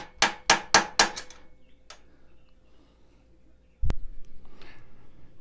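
A steering stem bearing on a Kawasaki KLX300 is driven into place with a quick run of four or five sharp, ringing hammer blows, then a pause and one heavier knock, close and loud.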